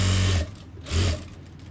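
Sewing machine stitching to reinforce the opening of a pocket on a boy's cord set, two loud bursts of running stitches separated by a short pause, with no talking.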